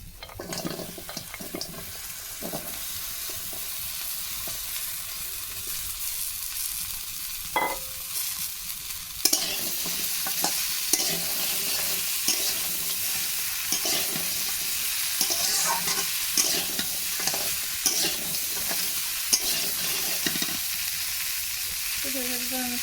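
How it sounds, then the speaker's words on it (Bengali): Diced papaya and shrimp fry in a pan with a constant loud sizzle, broken by irregular scraping and stirring knocks, with no talking. "লবণ দিয়ে দেবো এটা একটু ভালো করে ভেজে নেব"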